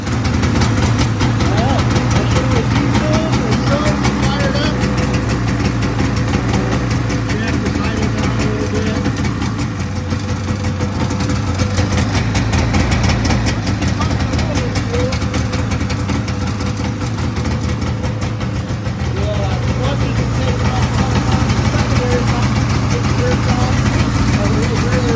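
A 1978 Arctic Cat El Tigre snowmobile engine runs steadily and loud at close range throughout, a rough, rapid two-stroke idle with a constant low drone.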